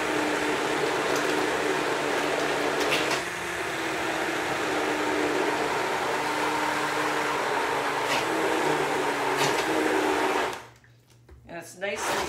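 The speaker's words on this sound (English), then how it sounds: "I'm gonna just grind it up. So this little mixer is fantastic." A small kitchen mixer whirs steadily at high speed for about ten seconds, pureeing cooked curry squash soup, with a slight change in pitch partway through, then cuts off abruptly; a voice speaks faintly over it.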